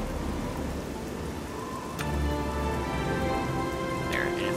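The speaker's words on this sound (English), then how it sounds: "It sucks how it's raining" Heavy rain pours in the video game Oblivion, a continuous loud hiss with a distant thunder rumble and a couple of sharp cracks partway through, with no talk over it.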